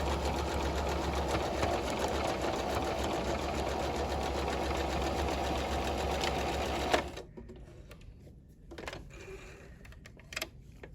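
Close sewing machine zigzag stitching along a bag seam allowance, a steady rapid whirring for about seven seconds before stopping, followed by faint handling clicks.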